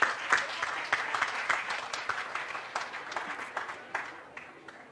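An audience claps to welcome a speaker, a dense burst of applause starting strongly and gradually thinning out over several seconds.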